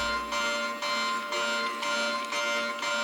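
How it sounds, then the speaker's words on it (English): An alarm in a stadium renovation video game rings in loud repeated bursts, a harsh electronic tone pulsing on and off roughly every half second, steady and close with no talking. "Gosh, that alarm."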